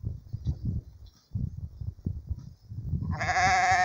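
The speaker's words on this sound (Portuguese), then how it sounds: "Olha as ovelhas aí." Sheep in a grandmother's backyard, with low bleating and munching noises close by, followed by a sharp, loud bleat at the end.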